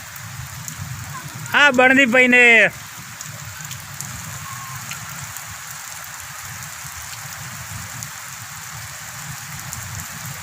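Steady rain patters on surfaces in a village throughout, with a brief burst of children's voices singing or calling out near the start as they bathe in the rain, then rain continuing alone.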